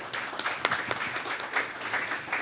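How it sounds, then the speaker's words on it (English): Applause from a conference audience greeting speakers at an Africa-Europe summit, a steady mid-loudness wash of clapping with a few sharper claps standing out, lasting the whole stretch without talk. "kindly ask you to give a round of applause to our speakers"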